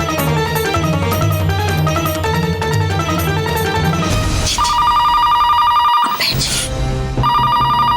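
Music plays loudly, then a telephone's electronic ring cuts in as repeated bright tones, partly overlapping the music.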